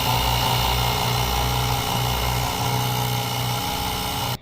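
ALTOCRAFT portable air compressor and tire inflator running, a loud, steady buzzing motor drone with a rattling pump throb held close and unbroken until it cuts off at the end.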